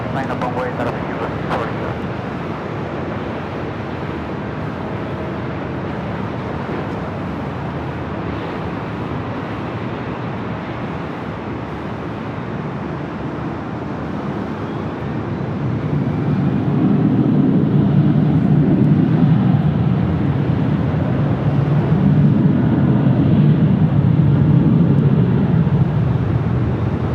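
Emirates A380 jet airliner on the runway at LAX, a loud continuous jet rumble and roar that swells toward the end, with a voice talking over the engine noise.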